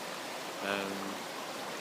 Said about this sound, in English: just like this river. It's so simple. You sit by it, stand by it, and just watch the water go by.